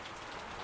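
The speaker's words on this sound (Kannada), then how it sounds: "ನೋಡಿ, ಕಂಟಿನ್ಯೂಸ್ ಆಗಿ ಮಳೆ, ಫುಲ್ ಮಳೆ." Heavy rain falls continuously, a dense, even hiss with no breaks, heard alone at a moderate distance.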